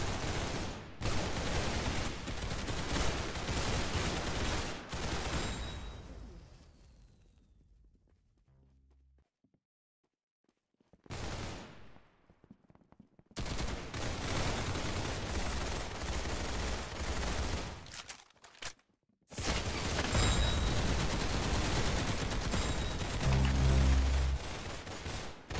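Rapid bursts of gunfire in the video game Arsenal, loud and sustained over long stretches and broken by two near-silent gaps, with no talking.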